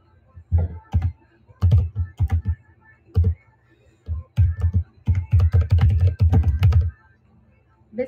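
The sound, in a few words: typing on a computer keyboard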